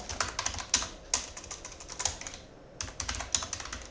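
Rapid keystrokes on a computer keyboard while writing a C loop program, a steady run of clicky taps with one brief pause, close and fairly quiet with no talking.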